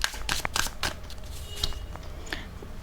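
Tarot cards are shuffled and drawn by hand, giving a steady run of crisp papery riffles and snaps, close and moderately loud with no talking.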